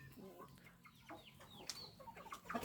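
A Thai fighting rooster, a golden-colored game cock, gives short clucks and chirping calls, faint and close against a quiet background, with someone talking softly at times.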